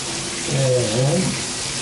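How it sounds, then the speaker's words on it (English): A shower runs at full water pressure in an apartment bathroom, a steady loud rushing spray heard up close with no pauses. "Put it through the shower. And you see the shower pressure is excellent as well."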